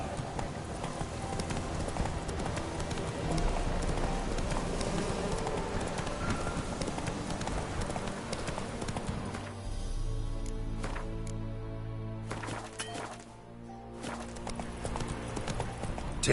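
Roach, a horse in The Witcher 3, gallops with steady rapid clip-clop hoofbeats over a continuous game soundscape, the rhythm carrying through to the end.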